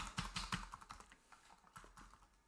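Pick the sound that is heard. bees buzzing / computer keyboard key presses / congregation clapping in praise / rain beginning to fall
computer keyboard key presses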